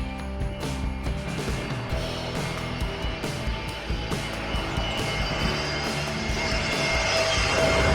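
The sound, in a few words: Airbus A320 airplane passing close at Katunayake airport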